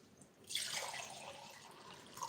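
Water poured into an ordinary half-litre glass jar for rooting ficus cuttings, a short, quiet splash and trickle that starts after a brief silence and fades to a soft settling, no talk.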